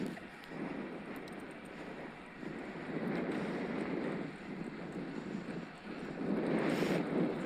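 Steady breezy wind rushing over the microphone while riding a Scott Addict RC eRide 20 e-bike near the Peak District, a continuous broadband roar that swells and eases in gusts.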